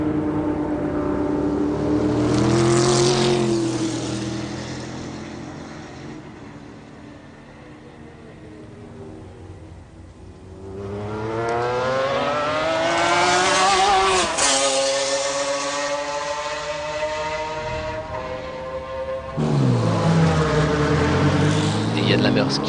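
McLaren F1 GTR race cars at Le Mans in 1996, engines roaring past through the first chicane in several rising and falling sweeps, loud and near, with a commentator talking over them.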